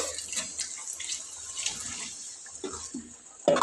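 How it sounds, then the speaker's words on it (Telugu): Water pours into a mixer jar holding leftover green chicken gravy, a steady close splashing rush that runs without pause and ends in a brief louder clunk. "మిక్సీలో కొంచెం గ్రేవీ ఉంటుంది కదా దాంట్లో కొన్ని నీళ్ళు వేసి"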